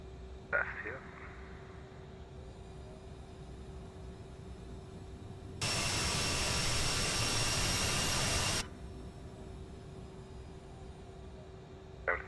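Simulated CRJ-900 jet engine in Microsoft Flight Simulator spooling up for a brief thrust test, a loud broadband roar holding steady for about three seconds over a constant cockpit hum, then cutting back.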